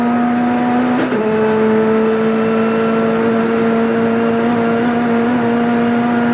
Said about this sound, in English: Bowd, Johnson and the other Nissan, of course, trying to pass the pair of them down Conrod Straight.